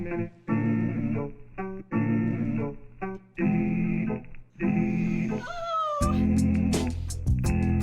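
A cat meows repeatedly, close and loud, a series of drawn-out cries with brief pauses between them; no talking.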